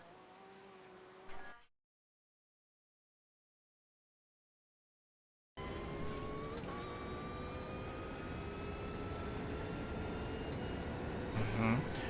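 Race car engine held at full throttle through a long section of Mount Panorama, a sustained loud drone with rising harmonics, cut off by a few seconds of silence before resuming steadily to the end.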